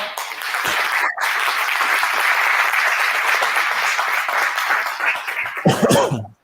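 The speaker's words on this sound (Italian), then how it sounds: "Grazie Marco, ti facciamo un applauso." An audience at a talk on the ecological conversion of the gelato industry gives a thank-you round of applause, a loud continuous wash of clapping that fades into a nearby voice and handling noise at the end.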